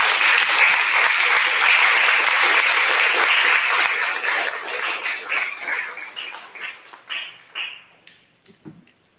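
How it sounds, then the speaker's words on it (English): Audience applause at a community history event, loud dense clapping that gradually thins out into scattered individual claps before fading. "One last round of applause, folks."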